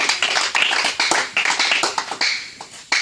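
Church congregation clapping at a prophetic deliverance service, loud, close, sharp claps in a quick irregular rhythm that carries on throughout.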